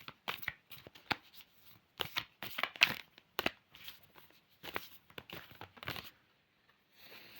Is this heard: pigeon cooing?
no